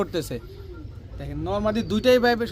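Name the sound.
pigeons cooing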